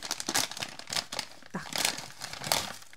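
A plastic zip bag holding Profisim steel scouring pads crinkles and rustles in several short bursts, close by and fairly quiet, with no talking over it.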